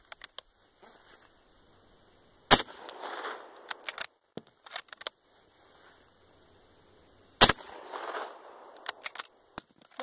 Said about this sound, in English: I'm just shooting these up.